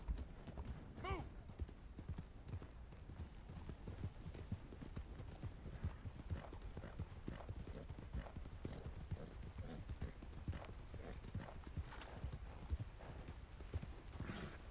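Horse hooves clip-clop steadily in Red Dead Redemption 2, a continuous even trot heard close but at low level, with no talking over it.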